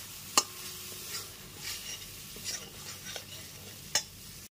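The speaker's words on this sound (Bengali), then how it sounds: "মশলাটা কষাতে কষাতে এর মধ্যে ভেজে রাখা আলুগুলো দিয়ে দিচ্ছি।" Spice paste and potatoes frying in a pan for an egg omelette curry, with a soft steady sizzle and a few sharp scrapes and clanks of a spoon stirring against the pan, moderately quiet and close.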